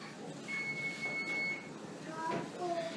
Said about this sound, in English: Timer's going off for cookies.